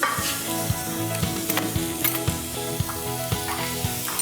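A cup of boiled chicken goes into a hot pan of oil, giving a steady sizzle broken by regular scraping and stirring knocks from a spoon, loud and close with no talking.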